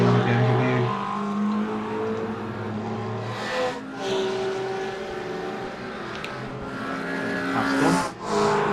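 Race cars including a BMW circuit racing at Bathurst, engines droning loud and continuous with rising and falling pitch as cars pass, while a commentator talks over them.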